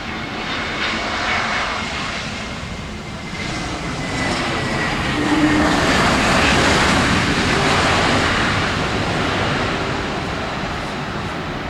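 An airliner lands on runway 07 at Tan Son Nhat airport, its loud, steady engine roar swelling midway and holding strong, heard alone without talk.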